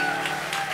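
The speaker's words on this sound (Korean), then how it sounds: "이번 기회에 우리 수고한 밴드팀한테 박수 한번 쳐줄까요?" An audience at a church young-adult worship service claps for the band, producing a brief, steady patter of applause at moderate volume.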